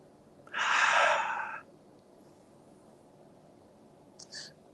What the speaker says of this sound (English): Breathe deep.